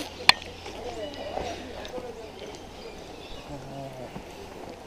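Birds chirp at the Australian Reptile Park, small calls scattered faintly through an outdoor background while people talk nearby.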